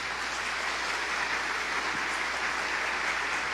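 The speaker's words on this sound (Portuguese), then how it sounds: "Pode aplaudir o Senhor." Applause from a church congregation, a steady dense wash of clapping filling the room with no voices over it.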